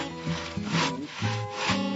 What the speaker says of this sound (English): I'm sawing firewood